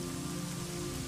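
Steady rain pours onto a surface in a comedy scene, a dense, even hiss with no break, close and fairly loud, no voices over it.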